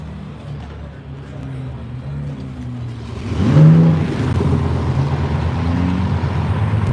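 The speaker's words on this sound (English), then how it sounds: "they got the drag race car out again today." A drag race car engine rumbles at a distance, then swells as it revs up and holds a rough, steady drone under outdoor ambience.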